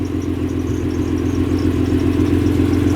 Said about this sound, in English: I guess this is what the car sounds like at idle from the outside.